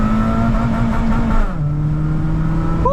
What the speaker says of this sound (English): This is the K20 engine from Honda